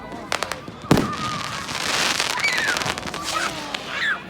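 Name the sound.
fireworks exploding on Bonfire Night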